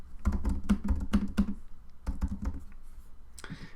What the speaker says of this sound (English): Type in your model name